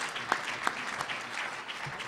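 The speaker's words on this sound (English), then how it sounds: "Please join me in a nice round of applause" Faint, brief clapping from the crowd at a legislative breakfast, a short patter of applause lasting about two seconds with a voice audible through it.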